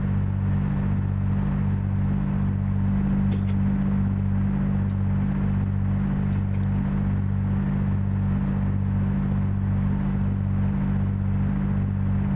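Kenworth 521 rigid-chassis truck in American Truck Simulator, its engine wound up hard at high RPM, a steady loud droning rumble with a rhythmic pulsing low throb, held constant throughout with no talking.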